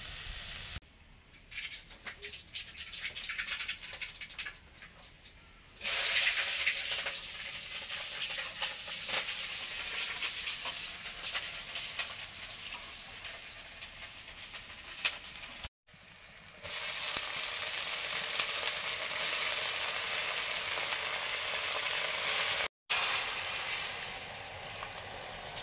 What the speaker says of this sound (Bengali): কলমি শাক ভাজা হবে, সরষের তেল দিলাম।